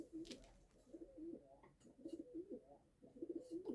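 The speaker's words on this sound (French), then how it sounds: "il y a un pigeon sur ma fenêtre, j'entends" A pigeon on a window ledge behind a closed shutter gives soft, rhythmic coos in short repeated phrases, faint and muffled but clear in a quiet room.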